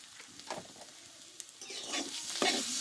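Mashed potato with chilli powder and salt is stir-fried in a pan for a cauliflower-stem dish, with soft scraping strokes at first, then a louder sizzle and brisk stirring toward the end, with no talking.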